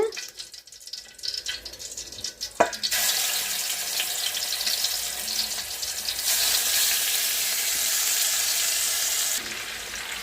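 Chicken pieces hit hot ghee and oil with a loud, steady sizzle that swells after a few seconds of quieter kitchen clatter and carries on continuously, close and bright, with no talking.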